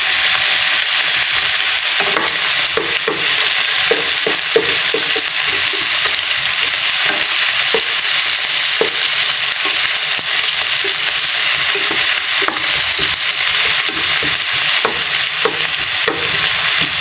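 Onions sauté in oil in a pan, a dense, continuous sizzle running throughout with repeated soft scrapes and knocks of stirring.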